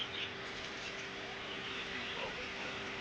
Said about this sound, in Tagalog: marami sa pilihan ng kalapati at mga ibon